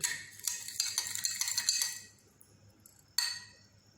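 A spoon stirs sand into water in a glass, giving a quick run of bright clinks and scrapes against the glass for about two seconds, then a single louder clink after a pause. Close, clear and with no voices.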